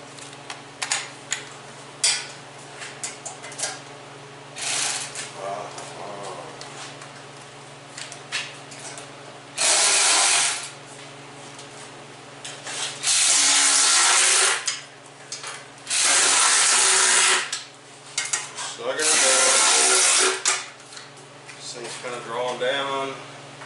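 A socket wrench with a 7/16 socket and a couple of extensions clicks its ratchet while bolting on a Ford 302 engine's oil pan, bursts of rapid close ratcheting alternating with someone talking and scattered mechanical clinks.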